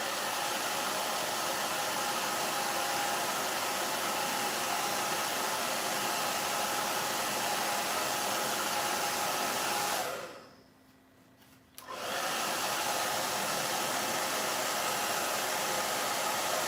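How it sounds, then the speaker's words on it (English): A hair dryer blows with a constant loud whooshing roar, cutting out briefly for about two seconds before starting up again. "I'm just going to quickly use my hairdryer"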